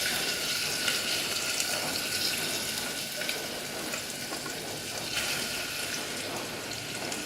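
Thinly sliced onions fry in oil over a low flame for French onion soup, a steady, even hiss and crackle that holds at constant loudness throughout with no voices.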